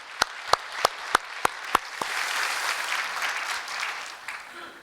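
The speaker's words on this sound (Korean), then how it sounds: "뜨거운 박수로 한번 격려해 주시면 좋겠어요." A church congregation breaks into applause after several sharp, evenly spaced claps, the clapping swelling into a steady, moderately loud wash that continues to the end.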